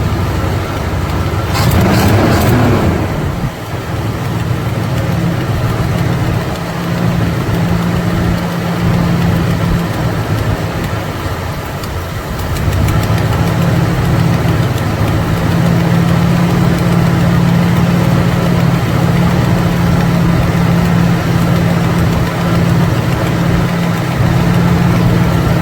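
A steady idle from an engine fitted with an Edelbrock 1406 carburetor while its idle mixture screws are adjusted, a loud, even low rumble that dips and roughens briefly at one point before settling back to a smooth drone, with a short metallic clatter near the start.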